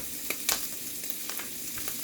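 Butter melting in a pan for sausage gravy, sizzling and frying steadily and close, with a few small pops and crackles.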